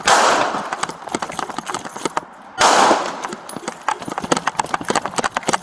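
Rapid clattering bursts of gunshots during a police bodycam scene in a Grand Theft Auto game, loud and close, with broad rushing noise and quick sharp cracks repeating across several seconds.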